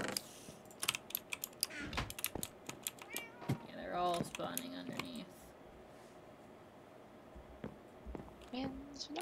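Cat meowing in the Minecraft video game, several short mews over keyboard typing and clicking, with people talking at times.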